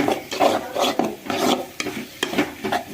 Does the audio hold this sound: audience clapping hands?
no